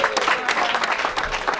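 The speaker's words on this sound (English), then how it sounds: "A round of applause." Applause from mourners at a funeral service for a music icon in Igbanke, a steady patter of clapping filling the room, with a voice heard faintly over it.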